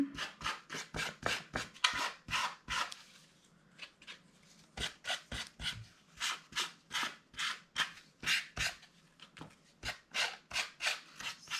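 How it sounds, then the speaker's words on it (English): Close, rhythmic rasping strokes as a piece of card scrapes paint across paper, quick repeated swipes in runs with a brief pause partway through, no talking. "I think I'm going to use a bit of card and just kind of scrape it on."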